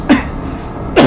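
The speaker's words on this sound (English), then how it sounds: "I have a really nasty cough" A person with a nasty cough coughs twice, loud and close, with a short pause between the two harsh bursts.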